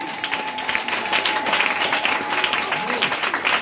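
A church congregation applauds during a French-language worship service, with steady, dense clapping throughout and voices mixed into the noise.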